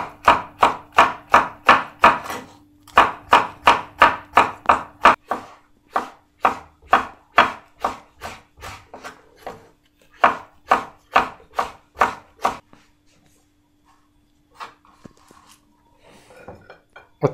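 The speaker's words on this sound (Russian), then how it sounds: "Перец. Это сладкий тюркский перец, друзья. Вот такой тонкий порежем." A knife chops sweet Turkish pepper into thin slices on a board, giving a fast, even run of crisp, close knocks in bursts with short pauses between them.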